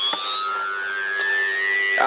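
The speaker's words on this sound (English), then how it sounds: "siren circuit with the Arduino to go along with it" An electronic siren from a dual 555 timer flashing LED kit driven by an Arduino wails nearby, its tones sweeping steadily upward and repeating in a clean, continuous electronic sweep.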